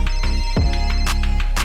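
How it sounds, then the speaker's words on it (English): A phone ringtone rings in a repeating electronic pattern, loud and layered over a dense music track, with no voices. "Answer your phone."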